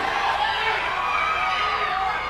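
A steady, dense roar from an arena crowd at a featured MMA fight in Real MMA III rises in excitement, a continuous wash of cheering and chatter with no distinct breaks.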